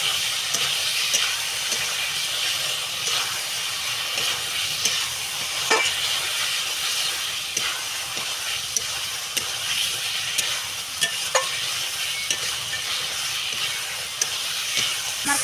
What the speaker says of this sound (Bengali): আলু দিয়ে আবার একটু কষিয়ে নেব।